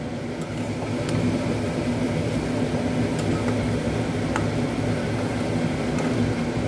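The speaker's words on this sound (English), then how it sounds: "Again I am frying all the paneer." Paneer and onion fry in a pan, giving a steady, dense sizzle with faint occasional ticks and pops, constant and close throughout, with no voice.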